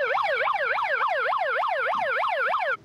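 A police car siren wails in fast, regular up-and-down sweeps, loud and close, about nine cycles before it cuts off abruptly.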